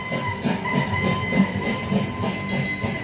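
A train rolls along rails during an evening sound and light show at the Cellular Jail in Port Blair, a steady rumbling clickety-clack of wheels over joints, moderately loud and even throughout, with no talking.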